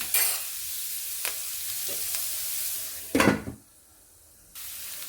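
Food frying in a pan, with stirring strokes over a moderate sizzle: a few sharp scrapes, then a loud burst of hissing spatter near the middle before the sound drops to a quieter steady fry, close and without talk.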